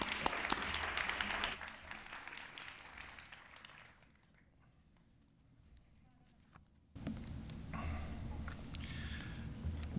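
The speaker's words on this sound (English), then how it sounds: "An applause." Crowd applause at a school graduation commencement ceremony: dense, steady clapping fills the first few seconds, drops to a quiet lull, then returns just as full near the end.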